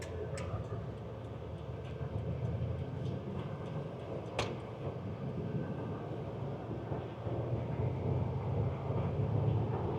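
A 1981 Pontiac Firebird Trans Am Turbo with low mileage drives at part throttle, its engine and road noise a steady low rumble heard from inside the car for the whole stretch, with a few faint ticks and clicks on top.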